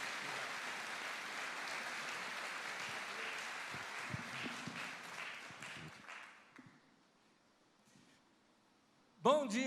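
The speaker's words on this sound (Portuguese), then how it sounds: "Aplauda o Senhor pela vida dele aqui, querido." A church congregation applauds in steady, fairly distant clapping for several seconds. It fades into near quiet, then a voice abruptly starts speaking at the end.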